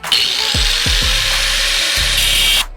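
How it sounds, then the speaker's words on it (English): An angle grinder cuts off a stuck bolt on a 1965 El Camino, producing a loud continuous high-pitched whine close by, with a few brief dips in motor speed as it bites into the metal, before stopping at the end. "I'm cutting that bolt off."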